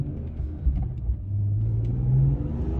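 A BMW M3 E46 engine revs while driving, a low, loud rumble that climbs steadily in pitch and strength as the car accelerates, with no voices over it.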